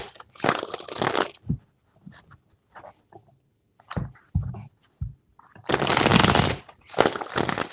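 Tarot cards being shuffled by hand, several riffling bursts with taps and soft handling noises between them, close to the microphone.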